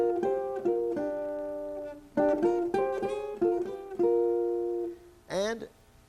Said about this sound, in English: Fifths sound like this.